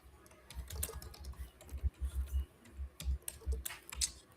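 Typing on a computer keyboard, a steady run of close, crisp key clicks and heavier thumps in uneven bursts, with no talk.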